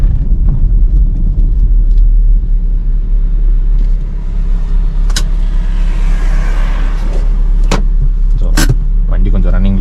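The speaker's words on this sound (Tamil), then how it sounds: "வண்டி கொஞ்சம் ரன்னிங்கில் இருக்கட்டும், உடனேலாம் ஆஃப் பண்ண வேண்டாம்." The engine of a parked Hyundai Accent idles steadily with a low, constant rumble close by, while a few brief clicks and knocks sound over it.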